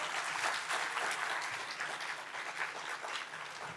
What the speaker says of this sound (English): Can you give a round of applause for them, please?